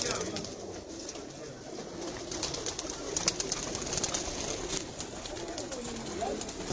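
Pigeons of a Jhelum rooftop loft kept for flying contests coo softly and steadily amid outdoor ambience, with faint chirps and distant background noise throughout.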